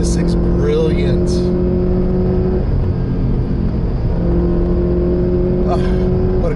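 A 2017 Toyota 86 engine drones and pulls while driving through a canyon, a loud steady tone that dips briefly and resumes, with someone talking over it.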